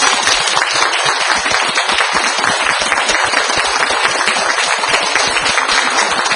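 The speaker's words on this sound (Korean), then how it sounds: "큰 박수로 윤봉만 교수 모시겠습니다" Loud, dense applause from a large audience, sustained and even throughout with no talking.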